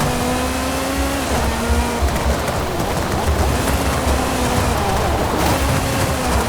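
A Ferrari F40 in a racing video game brakes hard, tires squealing under a steady, loud engine drone that carries on throughout.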